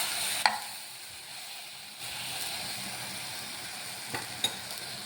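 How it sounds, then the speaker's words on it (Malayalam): Banana pieces sizzle steadily as they roast in a pan, with a couple of sharp spoon scrapes and clinks over a continuous low frying hiss; no voices. "നമ്മൾ പഴമൊക്കെ നല്ല തിരിച്ച് മറിച്ചൊക്കെ ഇട്ട് റോസ്റ്റ് ചെയ്യാം."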